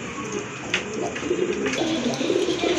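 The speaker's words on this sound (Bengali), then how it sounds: "আরেক জোড়া কবুতর দেখেন" Domestic pigeons kept for sale give soft, low, throaty coos over a steady murmur of background noise in a brief stretch.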